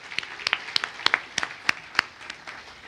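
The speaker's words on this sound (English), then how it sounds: "can we give ourselves an applause" Sparse clapping at a mental-health stigma event, a handful of distinct sharp claps spaced irregularly, close and crisp rather than a dense crowd roar, tapering off toward the end.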